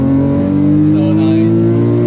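Porsche 997 GT3 RS engine on the Nürburgring, a loud, close, sustained high-revving wail with steady harmonic drone and slight pitch rise, filling the whole moment.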